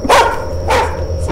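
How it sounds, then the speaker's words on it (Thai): Dog in the horror game Chilla's Art The Karaoke, with three sharp barks evenly spaced over little more than a second, loud and close, without talk. "เสียงหมาเห่า"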